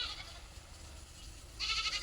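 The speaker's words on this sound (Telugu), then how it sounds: "మేక దగ్గరికి నేను వెళ్ళలేదంటండి, అది అరుస్తుంది." A goat bleats loudly and close, one call at the start and a second, longer bleat near the end, with a quiet pause between.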